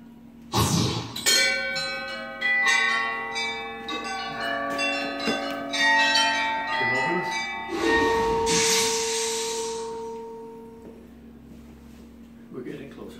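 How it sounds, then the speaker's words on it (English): A bell rings by a door during a wand-choosing ceremony, struck repeatedly with bright ringing tones that overlap and fade; the sound is moderately loud and close, with no talking. "I want you to make the bell ring just once."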